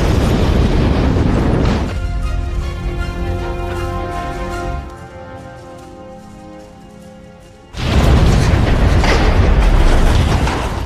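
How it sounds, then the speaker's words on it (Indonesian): A huge TNT bomb blast in a film roars loudly, fades into a lingering ringing rumble, then a second heavy burst of debris and roar erupts. "sebuah ledakan yang berasal dari bom TNT mampu meluluh"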